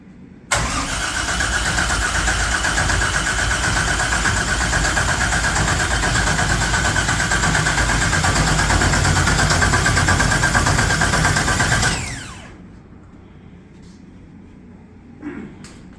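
A 1969 Camaro with a new turbo kit cranks and fires, its engine running loud and steady close by for about twelve seconds before cutting off abruptly into quiet.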